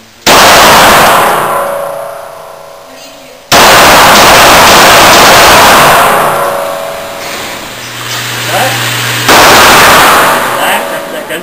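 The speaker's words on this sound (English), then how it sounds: "what I'm holding is a 9mm gun, my 9mm pistol right now, and I'm about to shoot it as fast as I can. 5 shots." A 9mm pistol fires at a shooting range: three very loud, sharp shots, spaced seconds apart, each followed by a long echoing decay.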